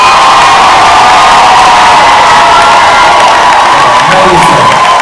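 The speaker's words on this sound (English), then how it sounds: "Would you clap your hands and just go cuckoo for Cocoa Puffs?" A church congregation roars with sustained cheering, shouting and clapping, a dense, very loud crowd wash with no gaps.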